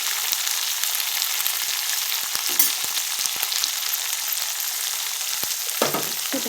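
Vegetables fry and crackle in hot oil with a steady, close broadband sizzle, broken by a few scraping stirs and spatula clicks; no voices.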